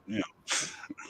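A single sharp human sneeze bursts out at close range, preceded by a short breathy intake and followed by a brief voiced sound, with quiet conversation around it.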